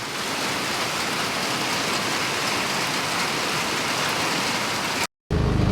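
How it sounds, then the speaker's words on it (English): Heavy rain pours down steadily on a regenerative farm, a dense, loud, unbroken wash of noise that cuts off briefly near the end. "it put the rain down in buckets"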